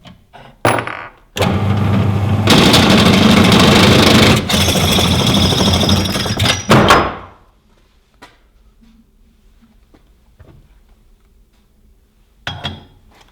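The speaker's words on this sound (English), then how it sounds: "I'm just gonna use my drill press and clean those holes a little bit" A drill press cleans out holes in metal with a loud, steady machine drone and grinding metal contact for several seconds, then stops, followed by faint clinks and a brief final burst.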